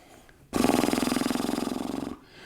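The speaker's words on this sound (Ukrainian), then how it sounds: "І так робимо три рази вдих." A loud, close, rasping breath lasting under two seconds is taken as part of a voice breathing exercise, with a rapid rattling pulse throughout before it cuts off.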